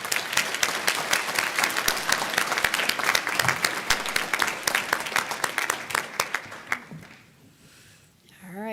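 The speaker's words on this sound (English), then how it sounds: "Let's all show our appreciation one more time with a warm round of applause for Mr. Atkins." Warm, sustained audience applause at a West Georgia Technical College fall commencement ceremony in a conference center, steady crowd clapping for about seven seconds before fading out, with a faint voice near the end.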